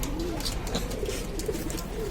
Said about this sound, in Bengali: বিগ সাইজের একটা পায়রা